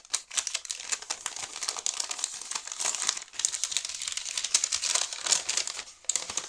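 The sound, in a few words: crinkling of a plastic pouch being unpacked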